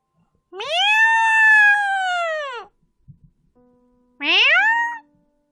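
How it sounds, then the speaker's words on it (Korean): Close, loud cat meows in a quiet room, one long drawn-out cry followed after a pause by a shorter rising one, with faint small knocks in between. "꼬냥이다, 꼬냥이."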